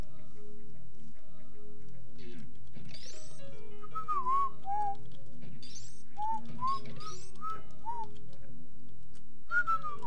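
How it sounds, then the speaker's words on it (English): A person whistles a melody over background music from the game Super Metroid, the tune rising and falling in short phrases with brief pauses between them. "I'm just whistling to the music because it's so good."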